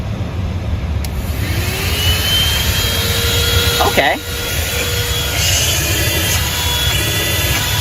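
A ThisWorx 12V handheld car vacuum runs close by with a steady, loud motor whine and airy rush, holding level throughout apart from a brief dip, while a person speaks a single short word.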